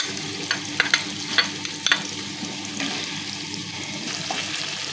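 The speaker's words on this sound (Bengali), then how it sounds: "ভালো করে একটু ভাজা ভাজা করে দিতে হবে" Onion paste frying in oil with garlic and dried red chilli paste and bay leaf for doi katla fish curry, a steady soft sizzle with several sharp clicks of a spatula stirring against the pan.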